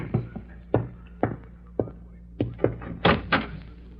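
A door is answered in an old radio drama: a series of soft thunks, taps and knocking sounds follows at uneven intervals, faint and close, with muffled movement between them.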